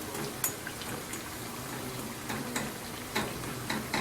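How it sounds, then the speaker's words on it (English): Quiet bubbling sizzle of potato patties deep frying in hot ghee, with a few sharp crackles and pops scattered over the steady hiss. "Frying, deep frying is an art in itself."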